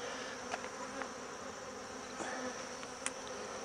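Honeybees buzzing in an opened hive of double deep frames in winter, a soft continuous drone with a few brief louder buzzes of single bees passing close, no talk.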